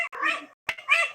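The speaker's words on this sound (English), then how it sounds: "It's a cat TikTok." A cat meows in three short, close calls, the first two running together and the last rising after a brief pause, with no talk over them.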